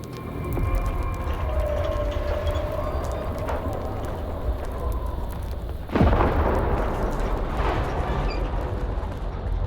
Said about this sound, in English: Is that gunfire over there?